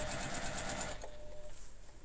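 A Juki QVP 18 quilting sewing machine stitching slowly, its needle ticking in an even rapid run for about a second before stopping, followed by a quiet lull; close and fairly soft.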